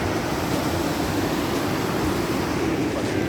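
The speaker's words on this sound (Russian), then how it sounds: "Вон там внизу вода." Steady rushing of river water far below in a mountain valley, a continuous broadband wash that stays even throughout with no voices.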